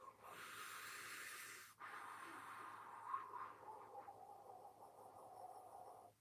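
A voice imitates a computer's airy, breathy fan or air-conditioner hum, a steady soft hiss with one brief break, faint and close, with no words spoken.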